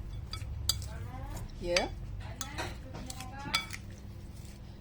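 Bean sprouts being tossed with sauce in a dish for a bean sprout salad, with close clinks and scrapes of utensils against the dish at irregular intervals, and a brief voice heard once.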